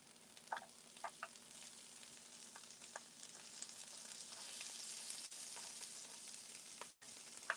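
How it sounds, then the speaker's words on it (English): Steady sizzling and crackling of cauliflower fried rice frying in a pan, with a few soft clicks and pops over a constant hiss. "So once I start to hear it sizzle like this, I might turn it down"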